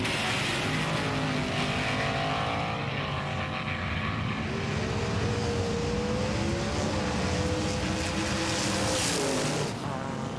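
Two drift cars battling in a road drifting competition, engines roaring loud and continuous with shifting, rising and falling revs as they run side by side.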